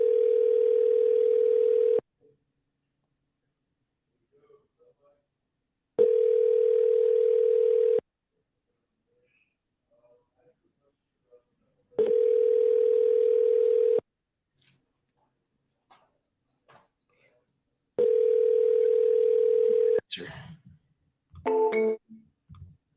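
A telephone call rings out with no answer: four long, steady ringback tones about two seconds each, evenly spaced with silent gaps, followed by a few faint clicks and handling noises.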